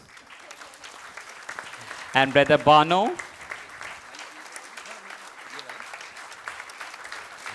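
Audience applause at a retreat gathering as facilitators are welcomed onto the stage, a steady crackle of clapping running throughout while someone speaks over it on a microphone.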